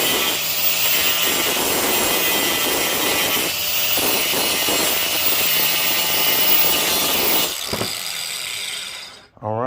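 Small grinder wheel trimming a Jeep Grand Cherokee 4.7 alternator part, a loud continuous abrasive whine that rises and dips in passes, then cuts off near the end as the wheel spins down.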